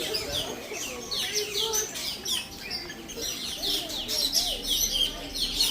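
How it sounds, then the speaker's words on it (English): Birds chirp and tweet in the aviary of the Maharajah Jungle Trek, a lively overlapping chorus of bright calls, moderately near and continuous. "I do like the chirping of the birds is really nice."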